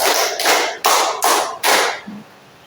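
A class of students claps together in a five-beat pattern, five loud, evenly spaced group claps in quick succession followed by a faint thump, with no talking.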